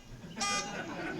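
A phone alarm goes off partway through, a bright electronic buzz-like tone that rises suddenly and holds for a moment before fading under the murmur of a public meeting room.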